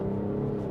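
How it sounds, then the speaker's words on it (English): Engine rev from a 2024 BMW X5 xDrive40i during a paddle downshift under acceleration, a brief steady droning growl, close and loud, lasting under a second. "So that was about half throttle, revving it, not even close to all the way out."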